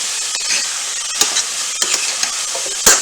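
Pork, pepper and zucchini mac is stirred in a hot pan, a constant loud sizzle and hiss broken by a few spoon scrapes and clicks.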